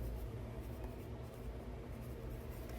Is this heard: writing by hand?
yes